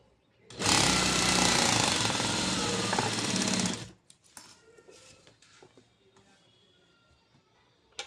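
A sewing machine stitches a blouse sleeve, running in a loud, steady, close whir for about three seconds before stopping, followed by faint clicks and handling sounds of fabric and tools.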